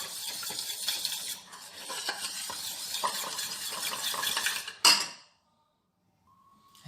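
Melted chocolate with a gelatin sheet is stirred in a pot, a spoon clinking and scraping busily against the metal for about five seconds, ending in one sharp knock, followed by near silence.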